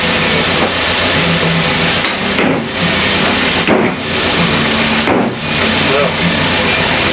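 A Renault 11 engine with a carburetor air leak idles unevenly, a steady mid-pitched running note that dips and surges every second or so, with a voice talking over it.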